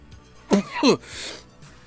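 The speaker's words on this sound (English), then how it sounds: "I'm coughing because I'm sick right now." A single harsh, close cough from someone who is sick, two quick bursts, against quiet room noise.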